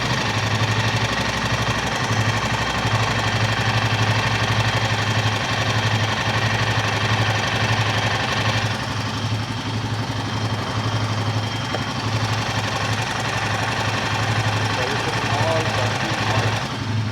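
A petrol engine idles steadily and continuously at close range, with a faint buzzing from the fuel injector running underneath the even hum.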